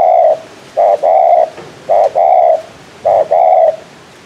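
A male dove coos during decoy bird trapping in Phu Yen, giving three loud, close bursts of rhythmic two-part coos separated by short pauses, with no talking.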